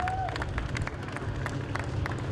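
Mechanics and well-wishers from the Mini Challenge paddock at Silverstone clap and cheer at a podium champagne celebration, with scattered sharp claps over a busy crowd murmur, moderately distant and steady throughout.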